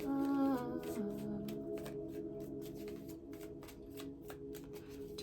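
Tarot cards being shuffled for a reading, a steady run of soft riffling and flicking close up, with a faint tonal background hum underneath and no talking.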